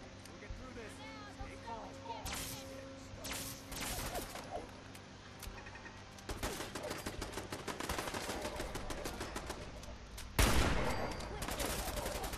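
Fallout 4 gunfire in the Mass Pike Tunnel comes as rapid automatic bursts, steady for stretches and then louder with a heavy impact near the end, mixed with people talking.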